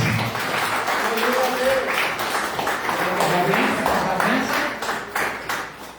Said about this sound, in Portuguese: as palmas louvam ao Senhor Jesus